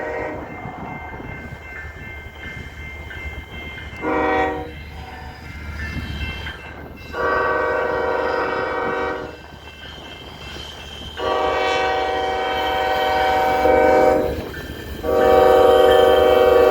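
BNSF westbound coal train of empty cars passing, with repeated loud horn blasts over a rumbling, clattering rolling consist, close and without voices.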